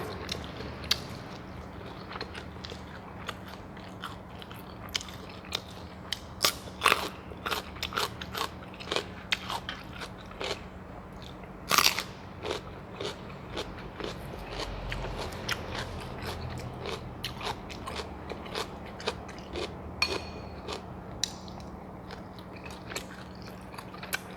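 Close, crisp crunching and chewing of chili dip with sticky rice and crunchy fresh vegetables, irregular bites and clicks spread throughout over a low steady hum, with no talking.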